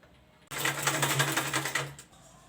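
A sewing machine stitches fabric for a mini traveling bag, one close, fast rattling burst of about a second and a half that starts and stops abruptly, with no talking.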